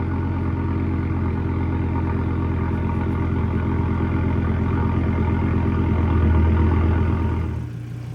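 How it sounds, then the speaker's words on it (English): Volvo V70R engine idling smoothly and evenly, a steady close mechanical hum with a fine rhythmic pulse, swelling slightly before dropping lower near the end; no voices. "This engine has never sounded so smooth and quiet."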